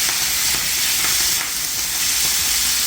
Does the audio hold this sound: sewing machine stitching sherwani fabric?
no